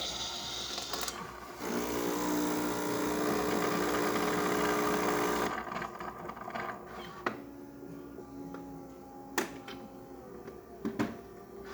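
A Miele coffee machine dispenses milk foam, a loud, steady mechanical hiss and hum for several seconds that then cuts off, leaving faint machine noise with a few sharp clicks.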